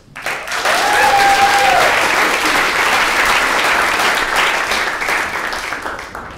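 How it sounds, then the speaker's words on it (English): A college comedy club audience at The Barn, UC Santa Cruz, breaks into loud sustained applause and cheering for a stand-up comic, swelling quickly, holding steady, then slowly tapering, with a brief whoop early on. "Give a warm round of applause to Richard Kiss."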